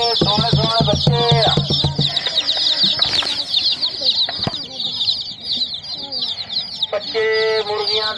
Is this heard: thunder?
no